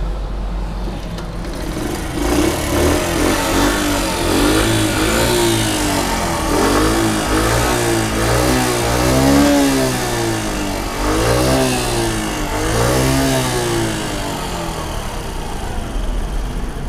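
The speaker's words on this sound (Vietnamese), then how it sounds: "em sẽ nổ máy cho anh chị nghe thử tiếng máy của em này ha" A 1998 Honda Chaly 50cc motorbike engine idles steadily up close, its small single-cylinder putter carrying rhythmic rising and falling surges of revving throughout.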